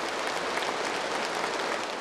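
Applause at a North Korean Workers' Party Central Committee meeting comes as a dense, uniform roar of many hands clapping at once, sustained without a break and with no voices.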